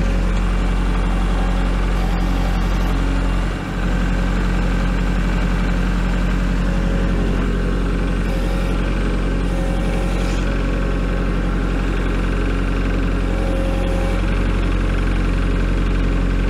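A tractor engine idles steadily and loud with a deep, constant drone while foam board insulation is unloaded, with no break in the running sound.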